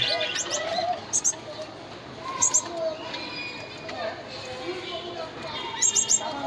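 Gouldian finches in an aviary, some moulting, giving short high chirps and tweet clusters at intervals over a busy background with cooing birds and voices.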